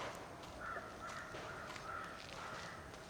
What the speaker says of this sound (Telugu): కాకరుస్తుంది